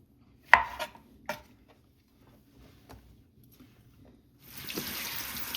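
A knife chops onions on a cutting board while a braising liquid is prepared for a smoked Burgundy spoon roast, giving a few sharp, close knocks, then quiet, then a steady hiss of running water.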